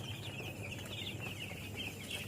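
A flock of broiler chickens clucks quietly in a poultry shed, a soft, continuous chorus of overlapping calls heard at low volume.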